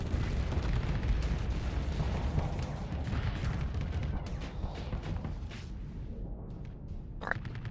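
Missile launchers firing during a Starsector space battle, a dense rumbling barrage of booms and bursts that stays loud and continuous before thinning out near the end.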